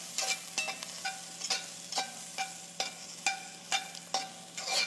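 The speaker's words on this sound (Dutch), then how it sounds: "Je hoort gelijk dat de sissen ophoudt." Vegetables dusted with flour fry in an oiled pan, giving a close, steady sizzle broken by regular scraping stirs about every half second, with no talk.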